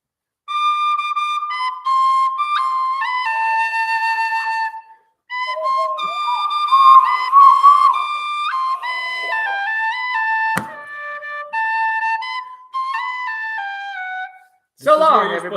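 Tin whistle playing a lilting melody of held and stepping notes, close and clear, in phrases separated by short pauses, with a sharp click partway through and a brief noisy burst at the end.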